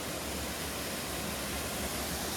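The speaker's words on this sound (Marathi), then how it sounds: "जस्ट मंदिराच्या परिसरातच आपल्याला हे दोन वॉटरफॉल आहेत" Two waterfalls beside a Shiva temple pour in a dense, continuous broadband rush with no breaks, loud and close, with no voices over it.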